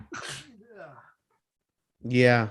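A single sharp human sneeze bursts out, followed after a pause by a short spoken reply from a voice nearby.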